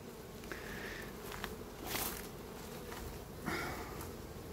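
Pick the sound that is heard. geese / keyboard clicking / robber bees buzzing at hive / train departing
robber bees buzzing at hive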